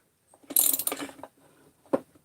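A ratchet cranks down a fastener on a motorcycle crankcase, a close burst of rapid clicking followed by a quieter pause and one more short ratcheting pull.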